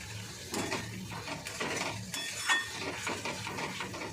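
Chili and spices, with turmeric powder and slit green chilies, are stirred in a cooking pan, giving a repeated scraping and clinking of a utensil against metal with a faint sizzle, close by and without talk.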